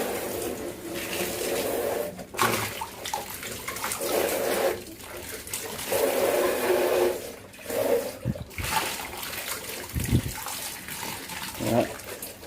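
A betta fish jar being rinsed under running tap water, with close gushing and splashing that comes in several bursts separated by short pauses, plus a few sharp knocks.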